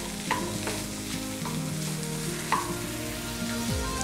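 An egg side dish with salt and coriander leaves frying in a pan gives a steady close sizzle, with spatula scrapes and taps against the pan at irregular moments and no talk.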